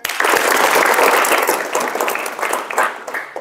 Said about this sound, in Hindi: ताली बजाएं